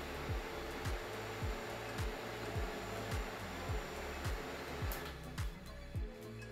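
A Snow Peak Field Fan, a small portable camping fan, whirs steadily at high speed, a continuous airy drone with a faint rhythmic pulsing, close and moderately loud.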